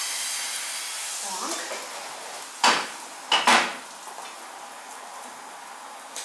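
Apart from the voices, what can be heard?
pancake batter sizzling in four frying pans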